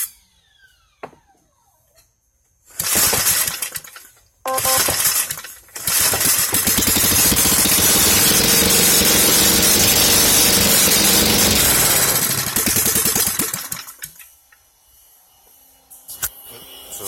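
A homemade go-kart's small engine starts after a couple of attempts, then runs loud and steady for about eight seconds before cutting out to near silence.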